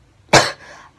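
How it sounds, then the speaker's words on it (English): A single sharp, harsh cough from a sick person bursts out close to the microphone, then trails off into a faint breathy tail. "I have the cough, as you guys can clearly tell."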